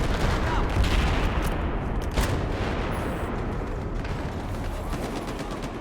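Dense, continuous gunfire from Battlefield gameplay, fairly loud and steady with a few sharper shots standing out above a constant roar of battle.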